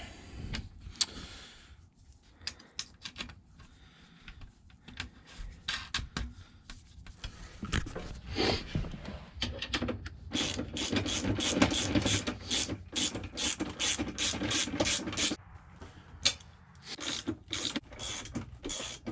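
Ratchet of a socket wrench tightening bolts while assembling a Powersmart 250cc snowblower, irregular clicking bursts that speed into a rapid run of close ratcheting strokes.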